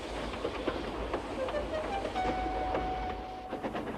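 A train in the Trainz video game, from a Thomas the Tank Engine remake, pulls away with a soft rolling clatter and a thin rising whine that holds steady, all fairly quiet against a faint background.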